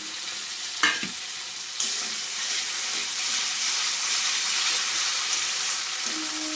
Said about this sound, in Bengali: মশলার প্লেটটা ধুয়ে একটু জল দিয়ে দিচ্ছি